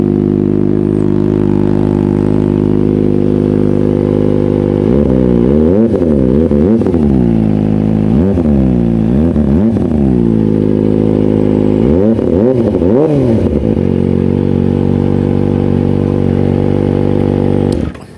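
A Kawasaki Ninja ZX-25R inline-four motorcycle engine idles steadily, then revs up sharply several times in quick bursts before settling back to a loud, even idle.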